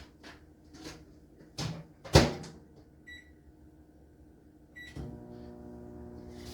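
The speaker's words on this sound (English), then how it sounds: "I'm going to put mine in the microwave for 10-15 seconds." A few soft clunks and handling noises, a couple of electronic beeps, then a microwave oven starts up with a steady low hum.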